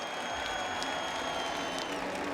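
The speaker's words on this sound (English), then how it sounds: "Let's give him a round of applause." A crowd at the 2014 Indianapolis 500 applauds during the race. The clapping is a steady, moderately distant wash, with a faint tonal whine running through it.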